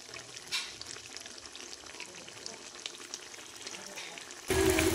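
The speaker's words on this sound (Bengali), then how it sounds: "এখানে কিছু বেগুন ভাজা হচ্ছে" Eggplant slices frying in a pan at home, a soft, steady crackle of oil throughout that stays fairly faint, with a louder burst of sizzle and clatter near the end.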